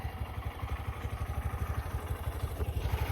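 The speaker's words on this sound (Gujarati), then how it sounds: "એક ટ્રેક્ટર તો આપણો આવી રહ્યું" Tractor engine chugging with a low, rhythmic thump at a steady pulse, moderately faint, approaching at low speed nearby.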